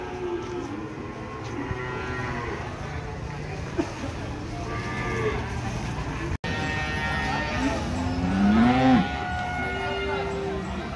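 Cattle moo in a busy, noisy cattle market in Gamping, Yogyakarta, with a louder low moo near the end among general crowd and livestock commotion.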